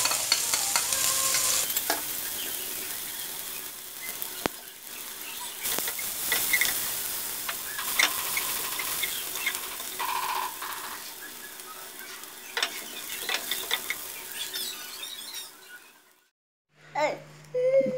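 Five chopped garlic cloves and a chopped medium onion fry in soybean oil for Bangladeshi mustard-greens bhaji, giving a steady close sizzle with frequent spatula scrapes and stirring knocks. The sizzle drops out briefly near the end.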